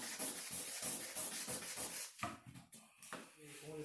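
Sandpaper rubs firmly across wood in a craft class, making a run of regular, even strokes in one direction about twice a second, then breaking into a few looser, scattered scrapes at close range.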